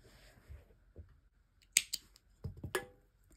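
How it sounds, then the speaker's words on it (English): Scissors snip through crochet yarn on a flower and watermelon cup holder, a few sharp close clicks bunched together after a quiet pause. "we're going to cut this yarn off"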